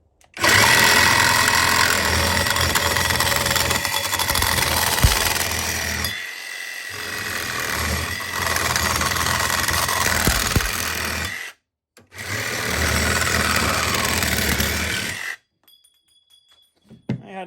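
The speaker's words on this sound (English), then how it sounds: "we're going to go ahead and cut this really thin wall metal tubing" A Hercules 12V brushless one-handed reciprocating saw cuts thin-wall metal tubing, a loud, close, continuous buzzing rasp in three long bursts with brief stops between them, then silence at the end.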